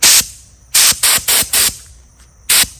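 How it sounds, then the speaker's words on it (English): A Rust-Oleum spray paint can sprays outdoors on a sign star in six short, sharp hissing bursts of varying length, close and loud, separated by brief pauses. "So I'm getting ready to spray the star"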